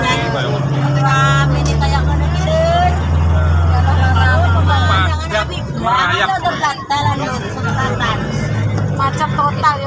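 Dense traffic jam of motorbikes and cars on a road, engines rumbling close and continuously while several people talk over the noise.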